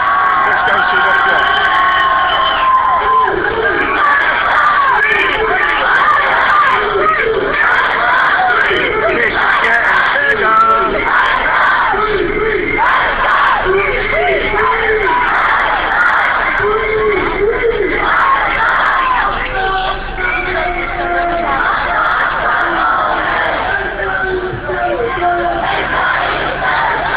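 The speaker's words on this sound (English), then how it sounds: "there's a lot of cheering going on" Large crowd cheering and chanting at a demonstration outside the Israeli embassy in London, a dense, loud, continuous roar of voices with shouts rising and falling throughout.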